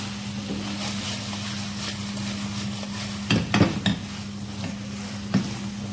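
Fried chicken wings scraped and tossed into a Korean-style sauce in a pan, a steady low hum underneath with a few louder clanking stirs near the middle and again toward the end.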